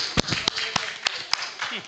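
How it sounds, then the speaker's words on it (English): Audience at a symposium panel session applauding the panelists, a scattered patter of claps in a hall with irregular louder individual claps standing out, under a murmur of voices. "A good, big round of applause to all our panelists, please."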